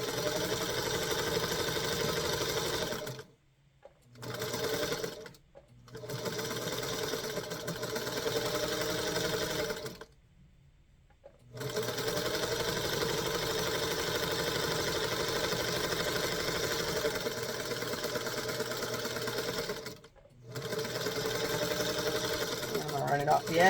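A sewing machine stitches the seam of a rag quilt block, its steady mechanical whir running in several long bursts separated by short pauses, close and fairly loud, with a person talking over it.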